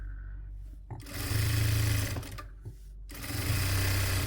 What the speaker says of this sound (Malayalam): നമ്മൾ ഈ സ്റ്റിച്ച് ചെയ്തിട്ടുള്ള സീം അലവൻസ് ഇതിങ്ങനെ വെച്ച് കൊടുത്തിട്ട് ഒരു ടോപ്പ് സ്റ്റിച്ചും കൂടെ കൊടുക്കുക.